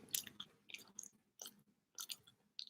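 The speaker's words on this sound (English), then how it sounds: "chewing on some bones." Bones are crunched and gnawed in short, close bursts separated by brief pauses, a series of sharp biting and chewing sounds with no talking.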